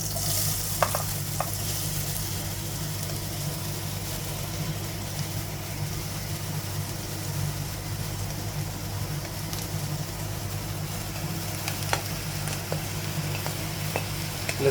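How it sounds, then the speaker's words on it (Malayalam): Mushroom mixture frying in hot coconut oil, a steady hissing sizzle over a low background hum, with a few faint clicks of stirring scattered across the stretch and no talking. "അതിലേക്ക് നമ്മൾ മിക്സ് ചെയ്ത സാധനങ്ങൾ ഇട്ട് കൊടുക്കാൻ പോവുകയാണ്."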